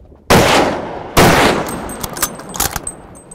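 A rifle shot at a Cape buffalo during a safari hunt: two sharp, loud broadband blasts about a second apart, each trailing into a long rolling echo, followed by scattered fainter clicks and knocks as the noise settles.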